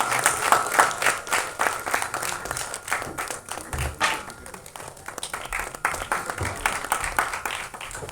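A crowd at an album song screening festival claps for a lyricist, sustained applause with distinct individual hand claps running unbroken throughout at a fairly close, even level.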